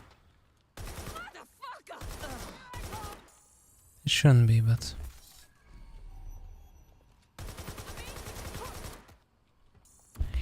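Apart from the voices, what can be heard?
AK rifle gunfire in the video game Watch Dogs Legion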